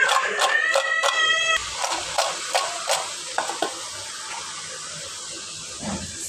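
Potato slices fry crisply in a pan for a sambar side dish, a steady bright sizzle with a few stirring clatters and scrapes near the start, fading to an even hiss.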